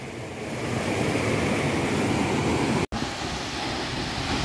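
Water rushes steadily at a waterfall and river crossing, a broad, continuous roar heard outdoors, with a brief dropout near the end and no voices.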